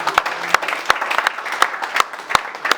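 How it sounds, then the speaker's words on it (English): Guests at a 2019 customer reward dinner clap sparsely, with a handful of distinct, fairly close claps over a quiet room. "Can we please give a clap?"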